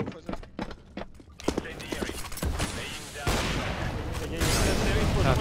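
Rapid bursts of gunfire in a Counter-Strike match, several sharp shots in quick succession at close range, with dense game noise and players talking over the action.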